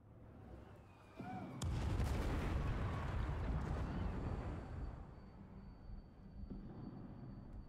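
A heavy explosion rips through a scene in the video game Gangs of Sherwood, a sudden deep boom swelling into a loud rumbling roar that slowly decays, with rubble-like crackle and a faint voice near the end.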